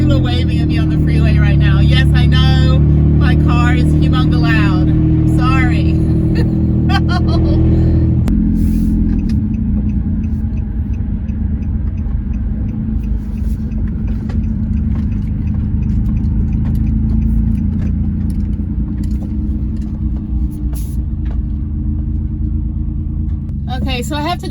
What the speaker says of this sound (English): Yes, I know my car is humongous loud.